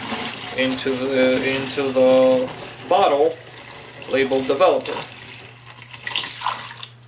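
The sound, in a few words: pouring liquid C41 developer through funnel into bottle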